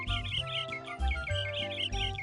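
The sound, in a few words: birds chirping in Mickey Saves the Day video game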